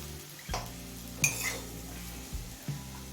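Mixed vegetables for a pumpkin-greens dish fry in a pan over a medium flame, with a soft sizzle under several distinct scraping and knocking stirs of a utensil against the pan, close by.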